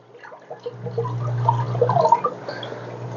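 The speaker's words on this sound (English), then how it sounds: "I'm going to just pour that in there." A gallon of water poured by hand into a crowded home aquarium during routine maintenance, a steady splashing trickle that swells and churns for a few seconds, close and moderately loud, with no talking.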